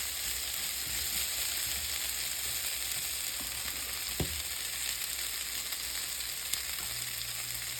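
Seasoned chickpeas for Guyanese bunjal channa cook in a pan over medium heat, giving a steady low sizzle throughout with a couple of faint clicks, no voices.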